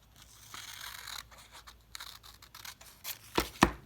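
Scissors cut through paper for a collage, a few soft snips building to two sharp, loud crisp cuts near the end, close and with no talking.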